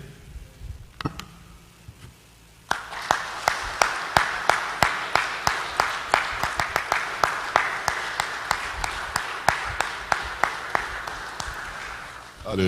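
Steady, rhythmic clapping from a church congregation during a sermon on love in relationships, starting faintly after a pause, then loud and sustained with evenly spaced individual claps.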